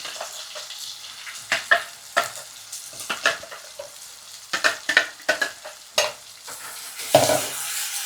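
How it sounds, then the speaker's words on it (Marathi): Ground masala paste for an Agri-style mud crab curry sautés in a pan: a soft frying sizzle broken by repeated sharp scrapes and knocks of a spoon stirring, close and without voices. "मस्त आता वाटणला आपण परतून घ्यायचं आहे एकदम चांगल्या प्रकारे"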